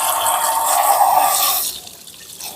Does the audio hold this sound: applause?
no